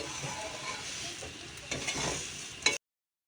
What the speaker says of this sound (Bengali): দিয়ে দিচ্ছি আমি মুড়ি এটাকে আমি সুন্দর করে ভাজবো